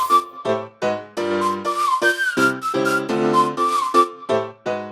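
Whistled melody layered into a music mix, bright sustained tones rising and falling in short phrases with brief gaps, loud and upfront over a piano and other instruments.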